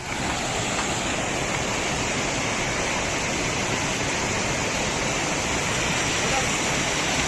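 Nayagara Falls in Karnataka roars as a constant, dense wash of falling water, close and loud and unchanging throughout.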